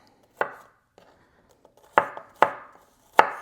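A knife chops four garlic cloves on a cutting board in a few sharp, close strikes: a single chop, a pause, then three more spaced evenly.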